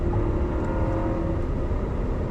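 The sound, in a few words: Hyundai Sonata 1.6T engine revving under full throttle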